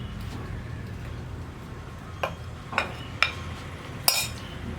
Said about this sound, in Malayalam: ഇതുപോലെ നമുക്ക് സ്ലോയിൽ മിക്സ് ചെയ്തെടുക്കാം